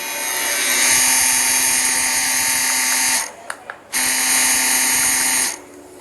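A P3 Pro tattoo machine with a T-Tex cartridge at 4.2 mm stroke runs at a high steady whine, cuts off briefly with a few clicks, restarts, then stops again near the end.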